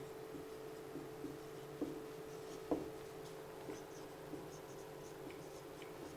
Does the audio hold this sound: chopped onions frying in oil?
no